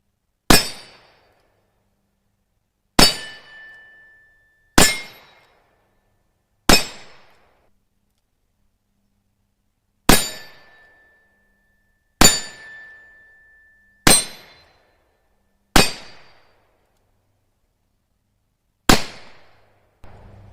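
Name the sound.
Smith & Wesson .38 Special revolver shots hitting steel targets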